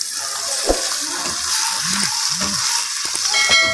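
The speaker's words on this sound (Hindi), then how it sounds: "2 से 3 मिनट हो गए चिकन को मैं अदरक लहसुन के पेस्ट में भूनते हुए" Chicken pieces fry in golden ginger-garlic paste in a pan, a steady sizzle broken by a few soft scraping stirs and spatula knocks, close and continuous throughout.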